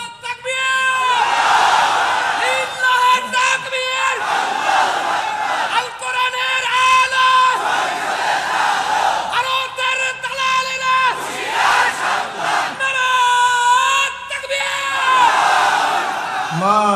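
A large crowd at a religious sermon gathering in Dhaka chants the Nara-e-Takbir slogan, with loud collective shouted bursts repeating roughly every two seconds in a steady call-and-response rhythm.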